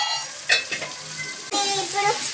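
Spices, ginger-garlic paste, coconut powder and chili powder sizzle and get stirred in a pan, a close, steady frying hiss broken by a couple of sharp scraping strokes of the spoon.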